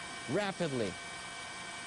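A news helicopter over northern Miyagi Prefecture during tsunami coverage gives a steady, loud rotor and turbine drone that runs throughout, with a brief voice over it.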